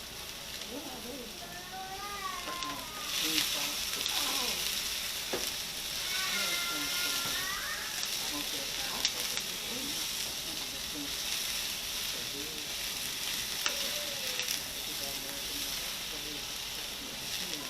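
Frozen vegetables and spring onions sizzle in hot oil in a pan while fried rice is being cooked, giving a steady, close hiss that runs the whole time beneath a talking voice.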